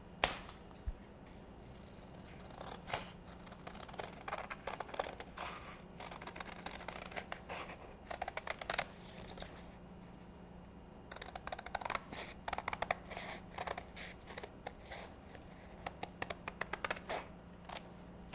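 Scissors cut out a paper craft piece in a quiet room, giving faint, irregular crisp snips and rustles in scattered clusters over a low steady hum.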